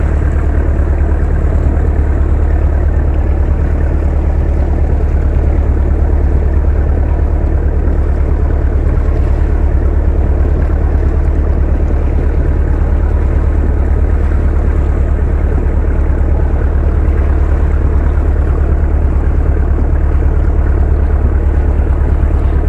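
Loud, continuous rush of sea waves and wind near Yim Tin Tsai, Sai Kung, Hong Kong, a heavy low roar with no breaks and no voices.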